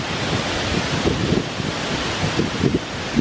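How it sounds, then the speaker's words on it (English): A strong wind gust from Tropical Storm Debby, a steady broad rushing roar with low buffeting thumps from wind hitting the microphone, moderately loud and continuous, with no voices. "Yeah, that's a big gust there."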